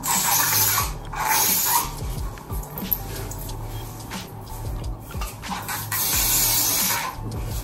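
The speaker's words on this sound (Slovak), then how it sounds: "teraz už si len ich zasprejujem" Hairspray misted onto freshly curled hair, a loud steady hissing spray in long bursts with brief pauses and faint handling noises between them.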